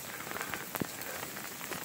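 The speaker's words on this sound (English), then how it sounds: "which is freezing rain and sleet and snow like this" Freezing rain and sleet fall outdoors during a winter storm, a dense, steady patter and hiss of icy drops striking surfaces, close and continuous with a couple of sharper ticks, no voices.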